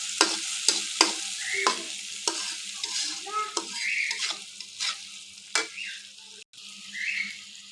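Small fresh river prawns frying in a pan for a bitter gourd chorchori, with a bright sizzle broken by several sharp stirring knocks and scrapes, close and fairly loud.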